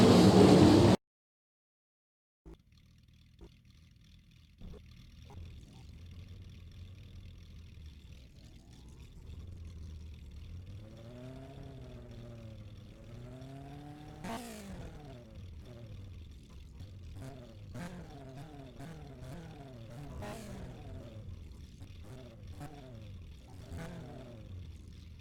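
Dirt-track race cars roaring at Bloomington Speedway, engines rising and falling as they power through the turns, a steady loud drone with repeated surges as the pack passes close by.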